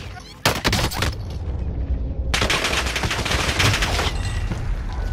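Automatic gunfire in Call of Duty Warzone erupts in loud, rapid bursts, with a short volley, a brief pause, then a long sustained stream of shots from close by.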